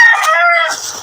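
A single close, loud chicken call, a drawn-out squawk that trails off into a rough fade.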